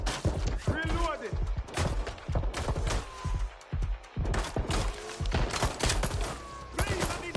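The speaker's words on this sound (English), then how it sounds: "Shots fired!" Dense gunfire from the Watch Dogs: Legion video game, with bursts of rapid shots and heavy impacts crowding the whole stretch, loud and close, while voices shout over the shooting.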